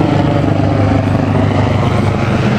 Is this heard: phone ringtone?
no